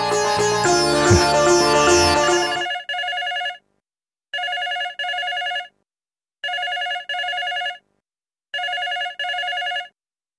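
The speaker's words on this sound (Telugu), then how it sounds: "ఇప్పుడే హరిప్రసాద్ గారు ఫోన్ చేశారు." A telephone rings in a repeating double-burst pattern, four clear electronic ring pairs spaced evenly after a brief louder stretch of music at the start.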